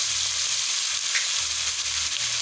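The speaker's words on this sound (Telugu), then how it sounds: "మనం ముందుగా కలిపి పెట్టుకున్న ఈ ఫిష్ పీసుల్ని అయితే ఇందులో యాడ్ చేసుకోవాలి. ఇలా మనం ఫ్రై అయితే చేసి" Marinated fish tikka pieces fry in hot oil, giving a close, continuous hissing sizzle with a faint low rumble beneath, steady throughout the short stretch.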